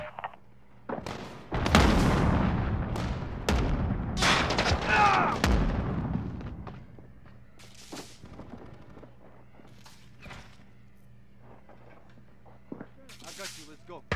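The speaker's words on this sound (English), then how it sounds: "Allied cruise missile launched." Cruise missile strike in Call of Duty Modern Warfare (2019) team deathmatch: heavy booming blasts and rumbling detonations build after a second and roll for about five seconds, then fade to quieter scattered gunfire and ambient battle noise.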